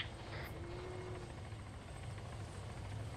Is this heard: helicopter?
yes